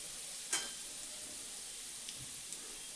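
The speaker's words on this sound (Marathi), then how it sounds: "ह्या लसूण चांगला थोडासा खरपूस भाजून घ्यायचा।" Garlic and green chillies frying in a pan, a steady hiss of sizzling oil throughout with a couple of faint stirring clicks.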